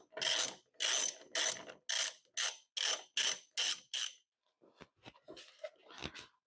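Ratchet wrench clicking in about nine steady bursts while backing out Torx T25 bolts from a Jeep mirror, close and crisp, followed by scattered lighter clicks and handling noises.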